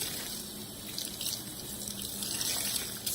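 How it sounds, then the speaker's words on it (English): Water runs steadily from a bathroom sink tap, a continuous hiss and splash while makeup brushes are being cleaned, close and fairly quiet with no voices. "turn our water on"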